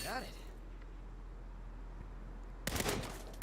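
Gunfire in the video game Saints Row: a sharp burst at the start, then a louder cluster of shots near the end, over a steady game background hum.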